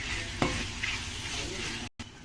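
Chilli powder and coriander powder masala frying in a pan for ridge gourd curry gives a loud, steady close sizzle, with a spoon stirring and a couple of brief scrapes against the pan.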